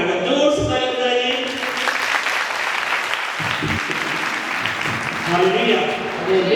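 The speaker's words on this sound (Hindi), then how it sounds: "जोर से ताली बजाइए।" Audience at a church bible convention claps loudly in a sustained burst, with a voice speaking over the start and end of the applause.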